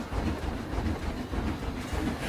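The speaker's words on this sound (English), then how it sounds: "The train's just leaving as well." A coaster train rolls out of the station in the video game Planet Coaster, a loud rumbling with rhythmic clattering of wheels.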